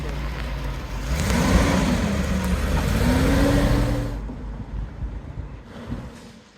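Classic Mercedes, a German cruiser just back on the road after seven years in a shed, pulls away with a rising engine note and wind rush that fades out quickly, leaving near silence.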